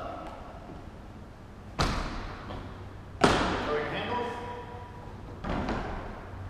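A 2017 Real Lite 12R A-frame camper wall panel is lifted and latched, giving sharp thumps and a loud clack, then a ringing metallic rattle and a final softer knock, heard nearby.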